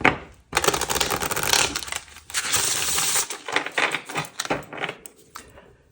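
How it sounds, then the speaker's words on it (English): A deck of tarot cards shuffled by hand at close range, giving dense, crackling riffles and flicks in quick bursts with short pauses, and no talking. "But let's have a shuffle."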